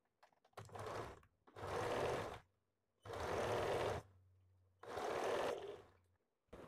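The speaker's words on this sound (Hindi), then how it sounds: "अभी इसको फोल्ड करके और एक सिलाई देना है" A sewing machine stitching a folded blouse seam runs in four separate bursts of whirring, each a second or so long, separated by near silence and a low hum between runs.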